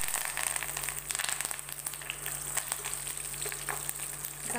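Curry leaves dropped into hot oil with mustard seeds and garlic, tempering for a cluster bean bhaji, make a steady crackling sizzle that continues without pause and without talk.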